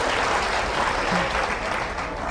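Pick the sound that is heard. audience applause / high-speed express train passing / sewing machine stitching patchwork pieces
audience applause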